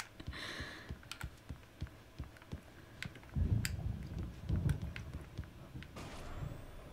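Typewriter keys in the video game Alan Wake clack in irregular bursts, sharp close taps spaced unevenly, with a couple of heavier thuds and low rumbles in the middle.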